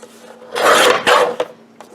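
Printer paper is trimmed at one end with two quick, close, scraping cuts, each a short rasping stroke, in an otherwise quiet room.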